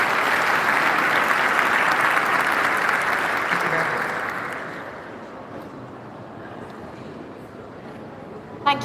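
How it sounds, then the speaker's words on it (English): Audience at the Economy Middle East Summit 2025 applauds panelists: steady, loud, dense clapping for about four seconds, then tapering into a quieter, thinner patter that fades out. "Please give them a round of applause, ladies and gentlemen."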